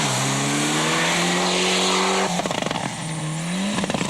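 A Ford Escort Cosworth rally car at the 1996 Rallye du Valais in Switzerland roars past with a sustained engine note that drops and cuts abruptly, then crackles and revs again, loud and close.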